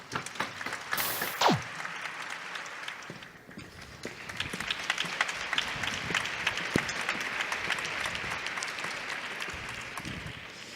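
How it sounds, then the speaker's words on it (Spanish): Audience applause at a diabetes awareness talk, a steady wash of clapping from a seated crowd that swells and holds throughout, with a brief whistle-like sweep near the start. "Un fuerte aplauso."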